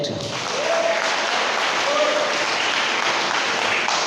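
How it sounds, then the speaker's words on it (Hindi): Congregation clapping during a Sunday church service, a loud, sustained burst of many hands applauding close by, holding steady the whole time with a voice briefly heard over it. "परमेश्वर के लिए ताली बजाएं ना"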